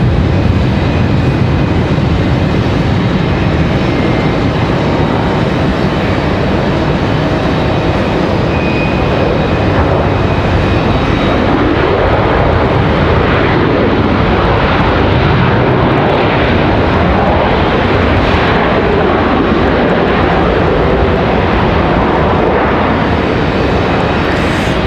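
Delta airliner arriving from Detroit at Raleigh-Durham International, a loud, sustained broadband engine roar that fills the whole stretch with steady intensity and no talk.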